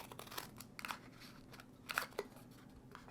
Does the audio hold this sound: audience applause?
no